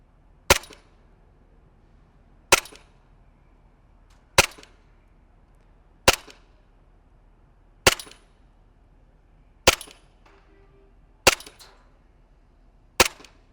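Elite Force Glock airsoft pistol firing single shots on semi-auto, eight sharp snapping cracks spaced about two seconds apart, close and clear against near silence.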